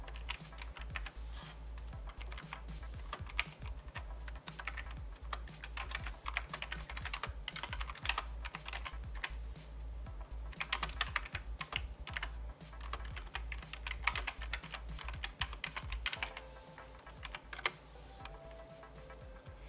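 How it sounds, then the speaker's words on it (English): Rapid computer keyboard typing during a Genshin Impact livestream, a steady run of close, crisp clacks lasting the whole stretch with no voices. "The reason why you're hearing keyboard clacking"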